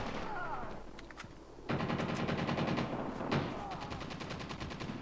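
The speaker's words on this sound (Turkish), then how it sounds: "Bildiğimiz eski Call of Duty, Modern Warfare, Black Ops gibi oyunlardaki AK-47'nin sesine yakın sesler geldi oyuna" AK-47 automatic fire in the mobile shooter Call of Duty Mobile, loud rapid bursts with a pause, then two sustained rattling volleys close by.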